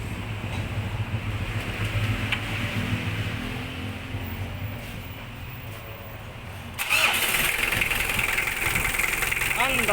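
A vehicle engine started and left idling after its balancer belt was replaced, a steady mid-pitched running drone with a brighter, louder rise near the end.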